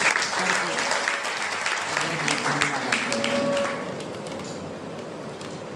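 Sustained audience applause welcoming a professor at a philosophy lecture, dense and even throughout before easing slightly toward the end, with faint murmuring beneath.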